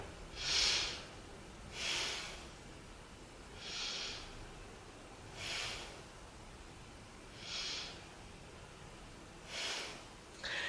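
Slow, deep belly breaths during a yoga pose, soft and close, each inhale and exhale arriving at an even rhythm of roughly one every two seconds across six or so cycles over a quiet background.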